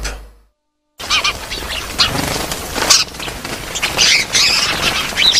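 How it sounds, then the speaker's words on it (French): Migratory birds in the Palmarin community nature reserve give loud, harsh squawking calls in overlapping bursts after a brief silent gap, with a busy flock chorus continuing to the end. "Ces oiseaux semblent être en fait dans la réserve naturelle communautaire de Palmarin."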